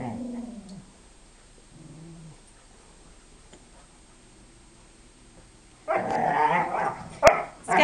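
A beagle puppy gives a few low yelps and grumbles, falls quiet, then erupts into a burst of loud, close barking.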